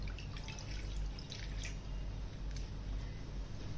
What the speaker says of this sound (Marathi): आता गॅसवरती कढई ठेवली त्याच्यावरती बघा एक वाटी पाणी टाकून घेते